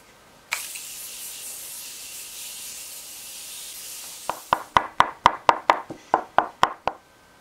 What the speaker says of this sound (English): let me take some of my Morphe setting mist.